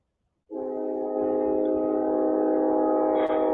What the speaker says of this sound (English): Yep, now I got my train going.